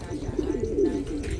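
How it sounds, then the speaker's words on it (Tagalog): Pigeons coo in a loft in Pampanga, a soft, low, rolling murmur of several birds that carries steadily and close by for a moment, with no talking over it. "Ayun po yung mga ibon mga kalapatid, dami oh."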